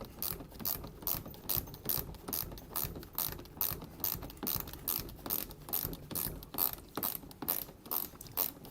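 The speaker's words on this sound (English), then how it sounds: "So now I'm just taking the bolts off the bottom of the van." A ratchet wrench works bolts loose from the underside of a Ford Transit van, its pawl clicking in a fast, steady, repeated rhythm close by, with no voices.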